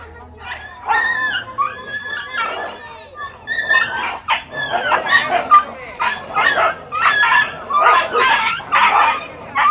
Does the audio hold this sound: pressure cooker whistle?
no